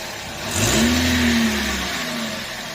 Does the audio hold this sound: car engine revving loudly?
yes